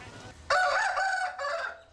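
A rooster crows loudly and close by in a village farmyard in rural India, one long crow with a brief break near the end.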